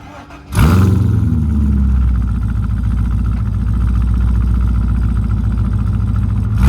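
A Chevrolet Corvette Z06 fitted with aftermarket headers fires up with a sharp crank, then settles into a loud, close, rumbling lopey idle that holds steady for several seconds.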